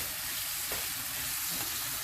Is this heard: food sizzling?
yes